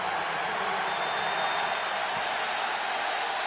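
Crowd noise at a professional wrestling event, a steady broadband roar of cheering with no clear peaks, heard at a distance throughout.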